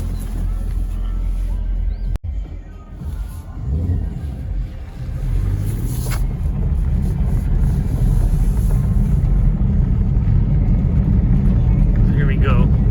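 A 2017 Chevrolet Camaro rolls along a gravel road, its low engine drone and steady tire rumble filling the cabin, with a sharp knock early on and a brief rise in engine note, heard from inside the car.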